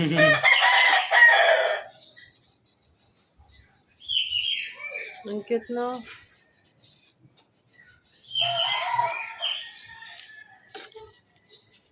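A child imitates a rooster's crow in a loud, strained burst, followed by people chatting and a second shorter crowing attempt.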